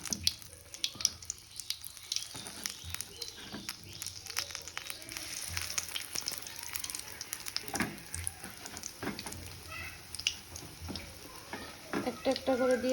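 Aloo chop, potato fritters in gram-flour batter, frying in hot oil, a steady close sizzle with crackling bursts and occasional stirring clatter throughout.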